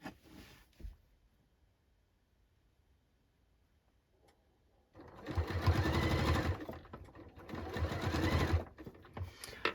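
A sewing machine stitches jacket fabric: quiet at first with a brief whir, then two loud, fast runs of rattling stitching close by, separated by a short pause.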